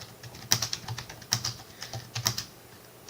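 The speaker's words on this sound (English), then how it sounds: "Sorry if you can hear me typing away" Keyboard typing during a livestream, with bursts of key clicks in short irregular clusters at a steady moderate level, alone without voices.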